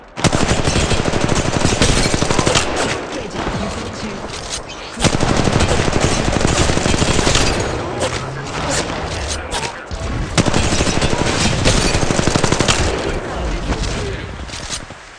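Rapid automatic gunfire in the Apex Legends Mobile battle royale game, dense bursts of shots running nearly continuously with brief lulls and a loud, close mix.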